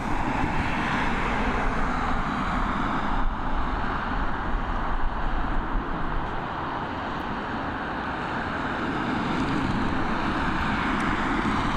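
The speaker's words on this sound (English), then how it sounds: "we've got this ATR 72-600 series aircraft operated by Aer Lingus Regional, taxiing away" Aer Lingus Regional ATR 72-600 turboprop taxiing at Dublin Airport toward runway 28, a steady broad engine and propeller drone heard from a distance, holding fairly constant throughout.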